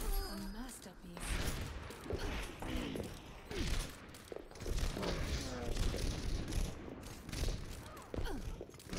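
Rapid gunfire bursts and single shots crack through a video game match, dense and repeated over the whole stretch, mixed with game effects and a voice talking over the action.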